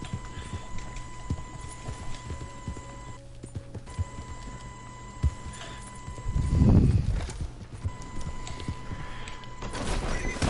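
Horse hooves clip-clopping in a video game, a steady quick rhythm of hoofbeats close by, mixed with game noise and a brief loud thump partway through.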